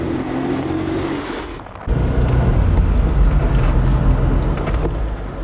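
A Suzuki Cappuccino on the road, heard from inside as a steady, loud engine and road rumble that deepens partway through and carries on continuously, with no voices.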